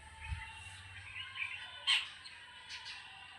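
Pigeons kept in a coop make faint, scattered calls against quiet background hiss, with one slightly louder call near the middle.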